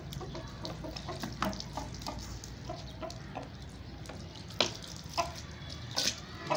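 Water is splashed and poured over Aseel chickens during a bath, giving a steady wet trickle with sharp splashes and occasional clucks, close by.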